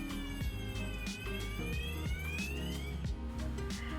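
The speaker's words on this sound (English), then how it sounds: "we have a manual pull station which can trigger the fire alarm bell and our strobe lights" A fire alarm, set off from a manual pull station, sounds with electronic tones that glide up and down over a repeating pulsed beat. The sound is continuous, fairly loud and has no talk over it.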